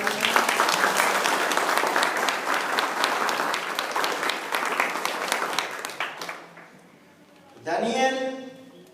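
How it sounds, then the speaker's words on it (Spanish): A church congregation applauds in a dense, steady burst of clapping for about six seconds. The clapping then fades away, and a voice speaks briefly near the end. "¿Cuántos dan un aplauso al Espíritu Santo?"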